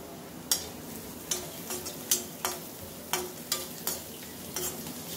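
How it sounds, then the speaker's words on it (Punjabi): Spices roasting in a pan with dry coriander and ajwain over moderate heat for masala oats, with a soft sizzle and repeated sharp spoon taps and scrapes against the pan at an irregular rhythm. "ਮਸਾਲੇ ਆਪਣੇ ਭੁੰਨ ਜਾਣ ਚੰਗੀ ਤਰ੍ਹਾਂ"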